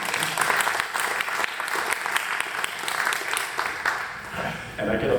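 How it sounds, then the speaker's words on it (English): A club audience at an evening astronomy society meeting applauds a speaker before a presentation begins, with steady, dense clapping from many hands that stays fairly loud for about five seconds before thinning at the end. "I get applause even before the presentation starts"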